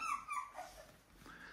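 Two-week-old puppies give high, thin whimpers and whines, a couple of wavering cries close by at low volume.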